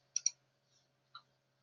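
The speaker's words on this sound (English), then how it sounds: "click on this little green plus here" Computer mouse clicks sound close and quiet: a quick pair of sharp clicks, then a single click about a second later, in near silence.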